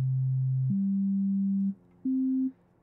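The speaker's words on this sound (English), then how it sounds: "the sine wave always sounds very mellow and very simple" A pure, mellow sine-wave tone from the Helm synthesizer holding three steady pitches in turn, each step slightly higher, with a brief gap before the last short note.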